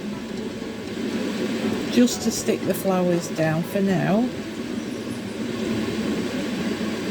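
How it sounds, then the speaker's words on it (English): A Resiners Purair resin fume extractor fan whirs steadily in the background while resin decorations are made, a continuous airy drone beneath a person's nearby speech. "You can hear the fan in the background."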